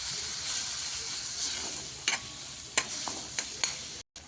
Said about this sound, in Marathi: बघा कसा मसाला आपला भाजायला लागलेला आहे.